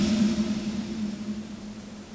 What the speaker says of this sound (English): Let's compare to the correctly applied iZotope dither.